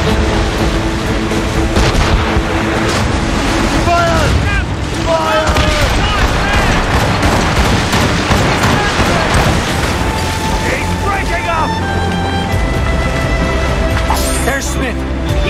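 A sailing ship's guns fire a volley in battle. Heavy booms and rumbling blasts overlap in a continuous loud roar, with shouting voices heard among the gunfire.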